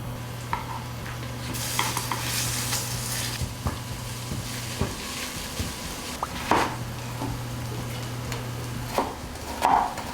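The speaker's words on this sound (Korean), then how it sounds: "자, 다진 고기부터 일단 넣어주고요, 그 다음에 나머지를 같이 넣고 볶아줄 겁니다" Plant-based minced meat is stir-fried for a vegetarian chili con carne, a quiet, ongoing sizzle with repeated scraping and knocking of the spatula against the pan, a low hum in the background, and no one speaking.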